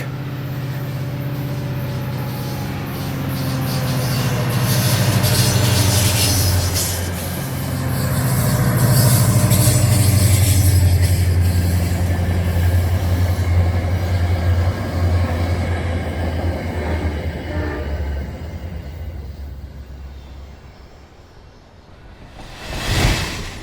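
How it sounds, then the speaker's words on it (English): A Virginia Railway Express commuter train bound for Fredericksburg rolls past Long Bridge Park. A low rumble and rushing roar swell and fade as the cars pass by, ending in a brief gust of wind noise. "A Virginia Railway Express commuter train bound for Fredericksburg rolls past Long Bridge Park."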